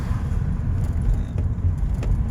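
Steady low engine and road rumble from inside a moving car, a constant drone with no talking.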